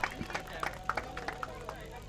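Applause breaks out for a prize winner at an award ceremony, with scattered claps rising into a brief round of clapping under a voice speaking over a microphone and crowd murmur.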